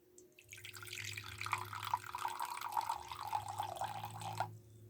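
Warm water trickles and splashes steadily into a measuring cup for several seconds, faint and close, with a low steady hum underneath.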